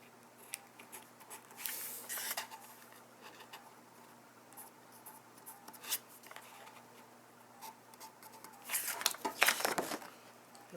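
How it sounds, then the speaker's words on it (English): Pen tip drawing a dotted folding line across paper for a DIY gift box, faint intermittent scratchy strokes in short bursts, closer and busier near the end, in a quiet room with no talking. "I draw the dotted line."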